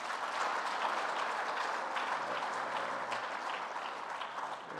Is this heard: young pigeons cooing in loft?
no